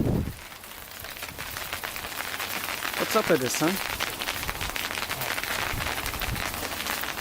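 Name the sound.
hail and rain falling outside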